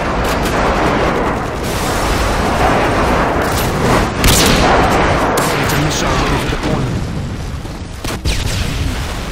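Friendly airstrike pounding a Favela map in a team deathmatch shooter, a continuous dense rumble of explosions and gunfire with sharper blasts, voices talking over it throughout.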